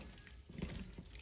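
Water pouring into a pot of Jamaican oxtail stew with lima beans and okra, a soft, steady splashing and trickling that is quiet and close, with no talk.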